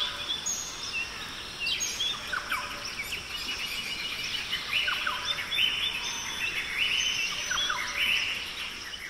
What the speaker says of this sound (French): on va réveiller les oiseaux, l'air et les bruits du bois